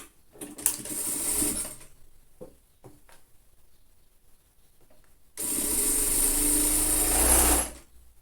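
A sewing machine stitches a lined children's coat from the sleeve opening to the hem, a brief burst of running followed by a quiet pause, then a longer, steady whirring run that stops abruptly.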